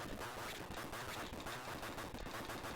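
In the video game Catacomb Armageddon, an enemy keeps firing balls, producing a dense, continuous barrage of rapid gunfire-like bursts and crackles, loud and unbroken throughout with no voice over it.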